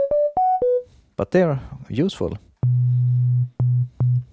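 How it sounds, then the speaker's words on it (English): Steady pure electronic sine-wave tones from a Sequential Take 5 synthesizer: three short rising pitches, then a long low sustained hum broken into pulses, with someone talking briefly in between. "you have sinus waves, or sine waves I should say"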